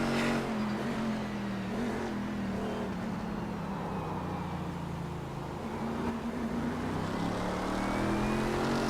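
Multi-class race cars lapping closely at Motegi in iRacing, engines droning loud and steady throughout with a constant high whine, pitch dipping and rising slightly as they run nose to tail.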